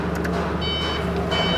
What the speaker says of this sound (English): Nice backup alarm too